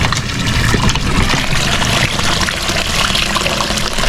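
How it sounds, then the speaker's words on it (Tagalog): Tap water pours through a sock filter into a basin, a steady broadband splashing and trickling that holds constant and close throughout, with no voices. "Nilagyan ko lang midyas yung gripo kasi may buhangin para walang buhangin yung natin tubig dito sa planggana."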